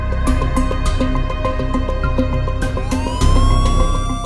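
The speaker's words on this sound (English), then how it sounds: "alarm siren." Loud alarm siren sounding continuously at close range, a harsh pulsing wail that rises in pitch near the end, with no talk over it.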